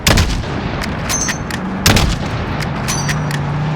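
Gunfire in Call of Duty Modern Warfare, several loud, sharp rifle shots and heavy booms in an irregular burst against a constant rumbling backdrop.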